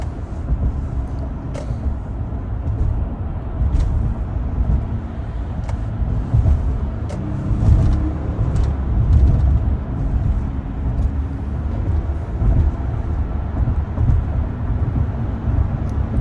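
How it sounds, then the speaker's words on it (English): Low, steady rumbling road and wind noise fills the cabin of a 2020 Toyota Sienna Limited Premium minivan while driving, with occasional light clicks and thumps from bumps. "just listen to that wind noise"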